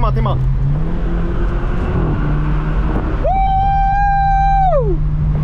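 A tuned 2015 BMW 428xi xDrive Gran Coupe with M package and 297 hp takes a sharp corner, heard as a steady low engine drone from inside, joined midway by a sustained high whining tone for about a second and a half.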